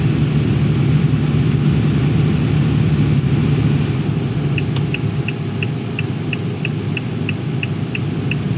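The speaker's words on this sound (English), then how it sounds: "Hear my engine really taking the strain." A heavy goods truck engine labours under load in Euro Truck Simulator 2, a loud, steady low drone with a droning hum. A regular ticking like an indicator starts partway through and repeats evenly to the end.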